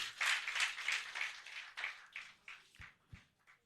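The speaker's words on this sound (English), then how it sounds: "Please, one more time, a round of applause for him." Conference audience applause after a talk at an annual professional conference and exhibition, a dense burst of clapping that thins into a few scattered claps with some soft thumps near the end.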